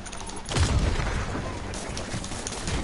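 Enemy gunshots in a Spider-Man game, a sudden loud burst of rapid cracking fire with booming low impact that settles into a rattling, crackling tail, close and with no speech.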